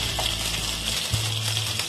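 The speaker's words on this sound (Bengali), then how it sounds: "তেলের মধ্যে আলুগুলো ভেজে নেবো" Potatoes fry in hot mustard oil, a close, continuous crackling sizzle over a low steady hum, with no voices.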